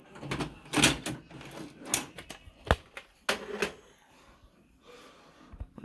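Tape being ejected and pulled from a Sony VCR: a series of sharp plastic clicks and clunks of the mechanism at close range, followed by quieter handling and a final soft click.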